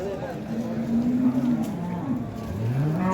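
Cows at the Baliqchi cattle market lowing in long drawn moos, one sustained call followed by another rising at the end, close and fairly loud over faint market background.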